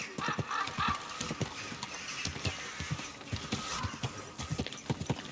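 Horse hooves in the video game Kingdom Come Deliverance 2 thud in a steady, close clip-clop rhythm with no talk over them.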